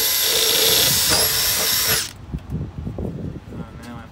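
A power drill whines loud and steady for about two seconds while drilling out a bolt hole on a school bus conversion, then stops, leaving scattered knocks and handling noises.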